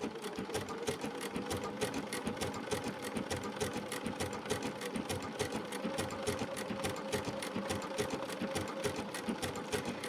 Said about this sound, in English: I'm just gonna start stitching, and I'll work my way all the way around the circle.